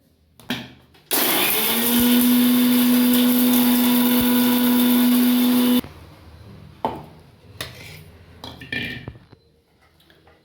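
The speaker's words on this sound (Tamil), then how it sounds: "இந்த வறுத்தது அவ்வளோத்தையும் மிக்சியில் அரைக்க போகிறேன்" A mixer grinder loudly whirs for about five seconds as it grinds roasted spices for a tamarind curry, starting and stopping abruptly, followed by lid handling, clinks and jar knocks.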